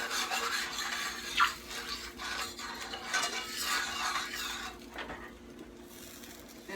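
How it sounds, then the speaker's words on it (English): Spoon or spatula scraping browned crumbs and seasoning from a pan while deglazing during country-style rib cooking, with repeated close rasping strokes and a soft sizzle behind. "we're going to deglaze the pan. And get all your little crumbs and everything up"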